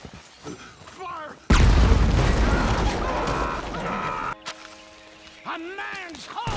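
Gunfire from the Western video game Red Dead Redemption 2, a loud booming blast that erupts suddenly and rings out for several seconds, with voices talking before and after it.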